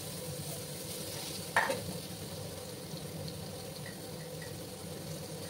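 Cut potatoes with turmeric fry in a pan with a faint, steady sizzle for a Bengali bitter gourd and potato dish, broken once by a brief stirring clack early on.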